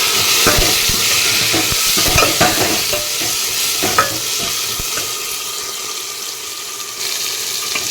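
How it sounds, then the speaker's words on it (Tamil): Chopped tomatoes sautéing in hot oil in a pan, a loud steady sizzle with scraping spoon strokes stirring through it close up. "தக்காளி வந்து நல்லா ஆயிலே வந்து நல்லா வதக்கணும்"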